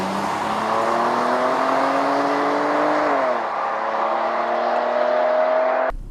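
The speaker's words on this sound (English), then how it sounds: "I'm just gonna give it just a little tiny bit of torque up to about 1100 RPM and go" A 2015 Chrysler 200 accelerates from a standstill with a steadily rising hum and whine, dips briefly as it shifts, then climbs again, loud and near.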